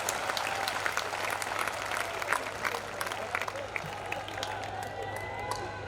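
Audience clapping at a Hindi comedy poetry show, a Hasya Kavi Sammelan, with steady crowd applause throughout, fairly distant and moderate, with a faint hum underneath.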